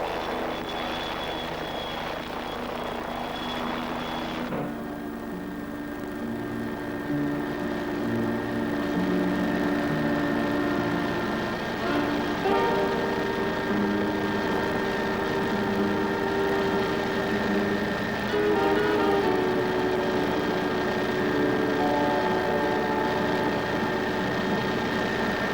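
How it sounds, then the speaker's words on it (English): PAH-1 combat helicopter flying low, a steady whining turbine drone with a constant mechanical hum that shifts slightly in pitch, sustained and moderately loud. "the helicopters hedge-hop forward in radio contact with the troops they are supporting"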